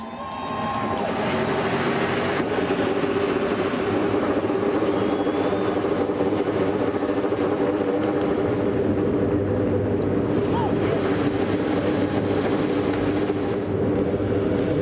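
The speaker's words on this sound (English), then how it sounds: "So the engines have fired" A field of IndyCar engines fires up together on the starting grid at Watkins Glen, a dense, loud, continuous roar that holds steady throughout.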